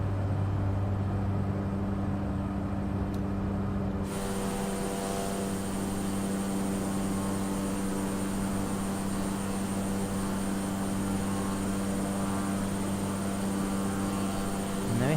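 Simulated Cessna 208 Caravan turboprop departing Cape Town, a steady droning engine and propeller hum with a sharp rise in broadband roar a few seconds in, sustained and close throughout.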